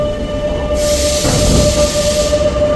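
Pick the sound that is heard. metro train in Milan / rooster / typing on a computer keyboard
metro train in Milan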